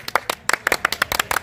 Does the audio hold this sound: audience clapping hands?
yes